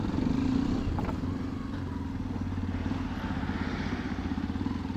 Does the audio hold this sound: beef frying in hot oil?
no